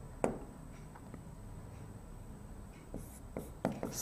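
Chalk or marker on a classroom board during a chemistry lesson, a few sparse, faint scratchy strokes spread across a quiet room with no talking.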